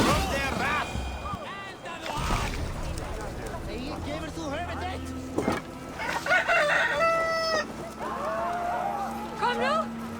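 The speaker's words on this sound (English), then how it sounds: "You mean Hemminger's famous fighting roosters?" Fighting roosters crow repeatedly in Assassin's Creed Valhalla, several loud cock-a-doodle-doo calls and clucks mixed with a busy crowd of voices and game sounds.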